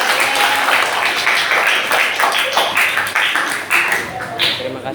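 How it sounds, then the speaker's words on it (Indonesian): A classroom of students applauds a group standing at the front, a burst of brisk, overlapping hand claps filling the room for several seconds, close and fairly loud, with voices mixed in. "Berarti tepuk tangan dulu untuk kelompok yang masih di depan."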